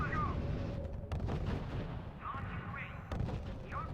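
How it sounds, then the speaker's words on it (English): Naval artillery in the R.U.S.E. strategy war game, heavy booming fire rolling under dense battle noise, with a couple of sharper impacts standing out. "Naval artillery is covering us."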